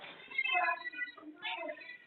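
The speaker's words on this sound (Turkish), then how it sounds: "Miyavlıyor." A cat meows softly in two short, faint calls, one after the other, close to the listener with no other noise around it.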